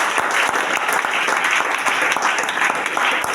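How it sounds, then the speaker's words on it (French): An audience applauds Joseph with dense, sustained clapping that fills the room evenly from start to finish, loud and close, with no speech over it. "Est-ce qu'on peut acclamer Joseph?"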